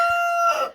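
A large rooster, the biggest of three, lets out a single loud, close crow that holds a steady tone before breaking up and fading, with no one talking over it.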